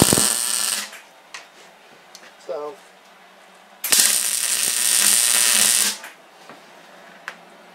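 Nuts are run down and tightened on a workbench fixture plate, with two long, loud bursts of rapid ratcheting clicks from a nearby tool separated by quieter metallic taps and handling clatter.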